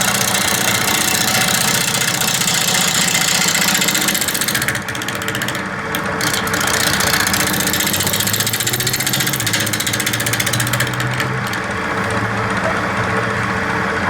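Woodturning lathe with a gouge cutting a sappy fat wood bowl, a loud continuous whirring hum with steady rubbing and cutting noise that dips briefly partway through.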